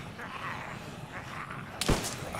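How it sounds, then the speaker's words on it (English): Zombies banging on a door in the game DayZ, a sharp heavy thud near the end of a short stretch of low background noise. "They're banging on my door"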